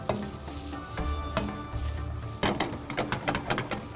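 Anda bhurji eggs sizzle in a pan as a spatula stirs and scrapes, a run of quick knocks and scrapes over steady frying noise, close and with no talk.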